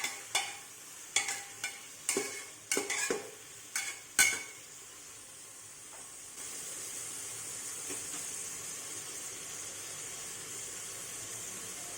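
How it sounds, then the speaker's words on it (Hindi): Vegetable pulao mixture stirred in a pot, with several distinct scraping strokes in quick succession up close, then a steady sizzling hiss takes over. "अच्छी तरह से मिक्स करेंगे।"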